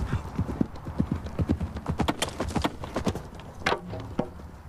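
Horse hooves pound in a fast, irregular gallop during a lance charge, loud and close, each strike a sharp thud in quick succession, with a brief rising burst near the end.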